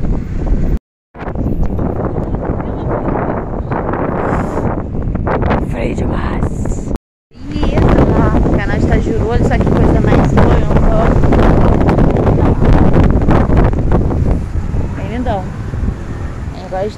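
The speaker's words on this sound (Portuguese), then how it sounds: "Tá ventando muito." Strong wind buffets the microphone outdoors during high-season traffic, a loud rumbling roar that drops out twice briefly and then continues, with a person talking through much of it.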